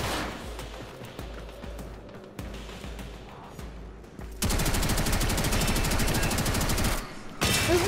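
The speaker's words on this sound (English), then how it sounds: "How did they not hear my gunshots?" Rapid bursts of video game gunfire, with loud sustained automatic fire filling the second half after quieter scattered shots and background game noise.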